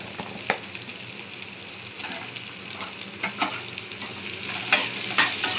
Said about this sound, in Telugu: ఆనియన్స్ వేగిపోయాయండి